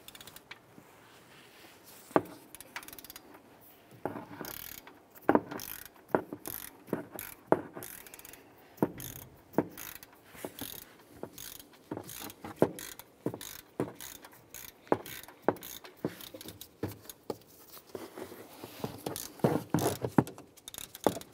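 Socket ratchet clicking as it loosens a bolt above the idler pulley on a Ram 1500 during VVT solenoid replacement, a close series of irregular sharp mechanical clicks and ratcheting bursts with no talk.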